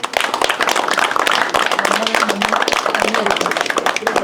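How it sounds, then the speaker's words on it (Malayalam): Crowd clapping at a pigeon-racing tournament prize distribution in Palakkad, a fairly loud burst of individual claps with distinct hand strikes, and a voice over the PA talking beneath and between them. "അപ്പോൾ അവർക്കൊക്കെ നല്ലൊരു കയ്യടി കൊടുക്കുക"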